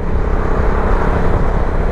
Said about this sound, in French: C'est une moto qui est un petit peu bruyante quand même.